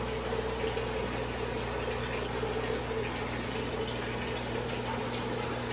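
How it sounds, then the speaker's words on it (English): Water pours steadily into pails in a home fish room, a continuous gushing fill with a constant pump hum beneath it, close and even throughout with no talk. "And my water pails are filling up."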